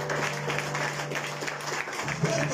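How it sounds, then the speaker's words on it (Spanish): A church congregation applauds in worship, dense steady clapping close and loud throughout, with a voice speaking faintly underneath near the end. "Fuertes aplausos que es para Dios."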